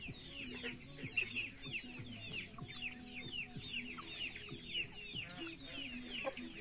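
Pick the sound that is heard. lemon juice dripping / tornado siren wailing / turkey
turkey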